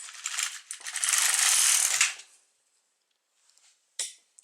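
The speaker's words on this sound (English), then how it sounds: "I'll just thread in my yarn and knit one row from left to right." An LK150 knitting machine carriage slides across one row from left to right, a close, loud mechanical rattling sweep lasting about two seconds, followed by a quiet pause and a few brief clicks.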